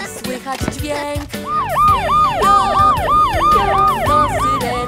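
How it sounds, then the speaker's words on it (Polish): A fire engine siren wails, rising and falling in steady repeated sweeps, loud and close, with a few other brief sounds at the start. "To syreny dźwięk."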